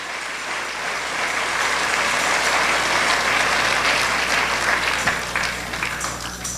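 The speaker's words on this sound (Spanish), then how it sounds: "Denle un aplauso al Señor" A church congregation claps together in sustained, dense applause that swells to a steady level and then tapers slightly toward the end, with no talking over it.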